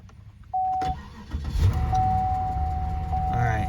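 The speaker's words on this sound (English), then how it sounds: "So we're going to start the car up." A 2007 Cadillac DTS with a fault starts up: a short chime, a click, then the engine cranks and catches into a steady idle while a warning tone drones on, close by, with a voice briefly heard.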